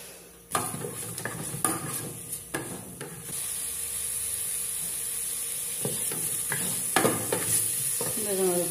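Vegetables with plenty of seasoning sautéing in a pan, with a steady sizzle under repeated sharp scrapes and clanks of a utensil stirring against the pan, some quieter stretches between.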